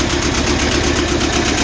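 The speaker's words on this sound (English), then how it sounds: "Engine runs really, really well." A two-cylinder Yanmar inboard diesel idles aboard a 1978 Hunter 30 sailboat, a steady, loud, even chugging hum with constant vibration and no pauses, close to the microphone and with no voices.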